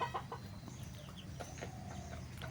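Local and Sonali breed chickens raised for sale cluck quietly in short, scattered bursts with soft farmyard rustling in the background.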